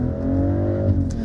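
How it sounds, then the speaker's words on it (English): A turbocharged six-cylinder engine in a BMW X3 M50 SUV revs with a steady, loud, harmonic drone that holds strong throughout, with no voices. "A 6-cylinder turbocharged engine, and it puts out, in this case, 398 horsepower, 580 Newton meters of torque."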